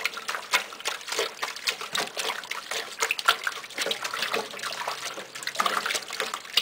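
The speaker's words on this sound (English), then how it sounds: "And drain again." Water drains from a sink after a yarn hat has been soaking, a faint, continuous gurgle and trickle with small splashes running throughout and no speech.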